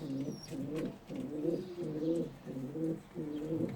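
Pigeons in a coop give repeated soft, throaty coos in a steady rhythmic series, close and clear, with a faint chirp early on and no voices.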